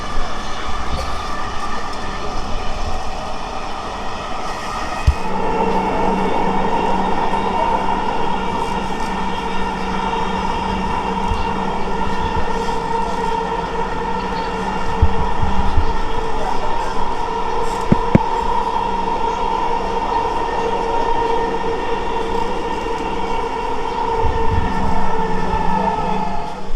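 A Dhaka Metro Rail train runs between Agargaon and Uttara North Diabari, a steady loud hum and rumble from inside the carriage with faint clicks and voices in the background.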